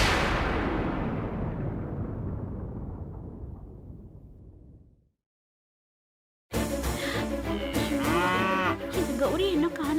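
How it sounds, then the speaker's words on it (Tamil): Cattle on a Tamil TV drama set lowing in distress: a long, loud moo that fades out over about five seconds, followed by silence, then a burst of dramatic background music. "இந்த மாடு வேற இப்படி வேதனையோட கத்துது."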